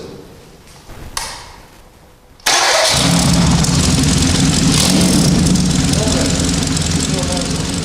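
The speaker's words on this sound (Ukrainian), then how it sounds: "Пробуй, чи двигун заводиться." A few faint clicks and clatter, then an engine cranks and catches, settling into a loud, steady idle that runs to the end.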